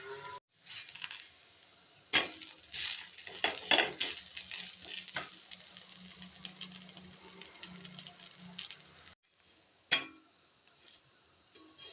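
Mochai dosa made with fresh field beans cooks on a pan, a steady close sizzle with scraping and clinking of a utensil against the pan, dropping out briefly near the end before one sharp clink.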